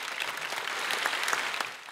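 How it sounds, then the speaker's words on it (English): Audience applause at an arts lecture for the incoming lecturer, a dense, steady wash of many hands clapping at even loudness for about two seconds. "And a big applause."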